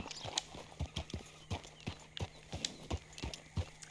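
Horse hooves clip-clop at a steady walking rhythm in Red Dead Redemption 2, a racing thoroughbred's footfalls moderately loud over faint ambient game sound.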